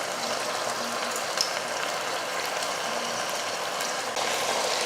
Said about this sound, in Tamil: தலைக்கறி வதங்குறப்போ இந்த தக்காளியும் சேர்த்து நல்லா வதங்கிடும்